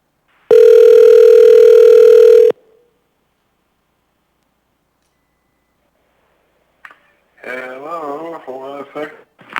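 A loud, steady telephone dial tone sounds alone for about two seconds as a call is placed to a public testimony caller for a planning and zoning commission, followed by silence and then a person talking.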